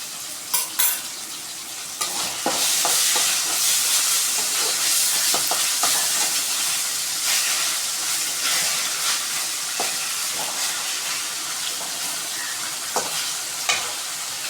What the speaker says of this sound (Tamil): இப்போது இஞ்சி பூண்டு பேஸ்ட்டை நம்ம சேர்த்துக்கலாம். ஸோ இப்போ நல்லாத்தையும் வதக்கிக்கலாம்.